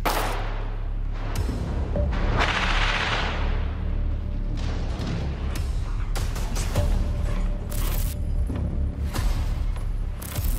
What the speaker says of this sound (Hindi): इसी वीडियो में हमास के कुछ लड़ाके लॉन्चर्स में रॉकेट भर भर कर दागते हुए नजर आ रहे हैं।